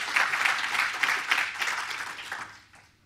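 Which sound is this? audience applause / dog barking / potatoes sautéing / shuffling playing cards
audience applause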